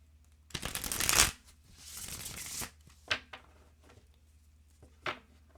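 Tarot cards being shuffled, a close riffling burst followed by a longer softer shuffle, then two short isolated card snaps as cards are drawn, in a quiet room.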